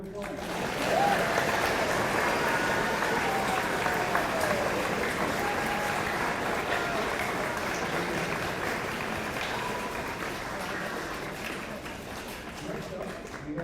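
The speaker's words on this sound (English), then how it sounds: "Round of applause." Sustained applause from a crowd at a kid governor announcement, a dense continuous wash of clapping that holds steady and slowly tapers, with faint voices underneath.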